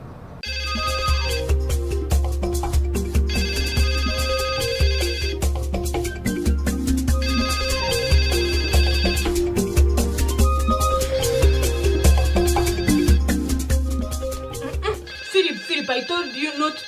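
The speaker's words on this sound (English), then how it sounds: "Your phone is ringing." A mobile phone ringtone plays loudly and continuously as a repeating melodic tune over a steady beat, cutting off near the end, with voices talking underneath.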